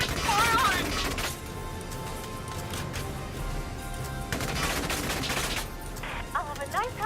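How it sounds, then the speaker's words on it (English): Rapid bursts of gunfire fill a Valkyria Chronicles 4 battle on PC, dense and sustained over a loud game soundscape, with a few sharper crashes near the start and end. "Keep firing!"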